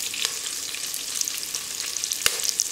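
Curry leaves hit hot oil alongside slit green chillies for kodo millet kichadi, a fairly quiet, high crackling sizzle dotted with sharp pops and one distinct tap near the end.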